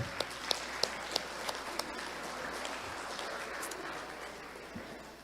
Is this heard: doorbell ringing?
no